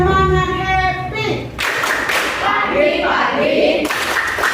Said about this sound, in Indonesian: Kita tepuk semangat happy dulu ya